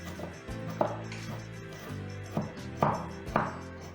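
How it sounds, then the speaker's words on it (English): Knife chopping ginger finely on a board in a home kitchen, irregular sharp taps with a few louder thuds, close and clear with no talk. "once you've chopped it as small as you can, then just go over it all to finely chop it"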